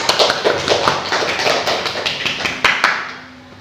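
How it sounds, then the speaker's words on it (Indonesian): A small classroom group claps in a microteaching lesson. Sharp, fairly close claps come in an irregular patter that thins out and stops near the end, with no talk over them. "Tepuk tangan"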